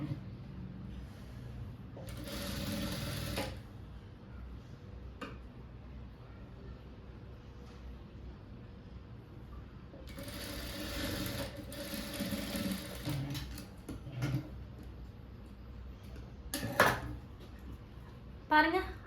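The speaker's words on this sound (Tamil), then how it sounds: "மெயின் பீஸோட ரைட் சைட்ல வச்சு ஒரு 1/4 இன்ச்சுக்கு ஸ்டிச் கொடுக்க போறேன்" A sewing machine runs a quarter-inch seam on the right side of a main blouse piece with its lining, two rattling stitching runs and later brief bursts, with quiet handling noises between.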